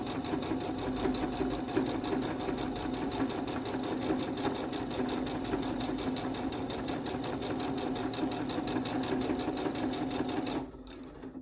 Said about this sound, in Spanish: Ahora empiezo a coser. Voy a hacer una primera costura simple.